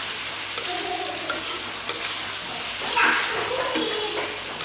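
Steady sizzling and scraping of chicken liver and tofu being stir-fried in a hot pan with sweet soy sauce, continuous and close, with occasional utensil clinks.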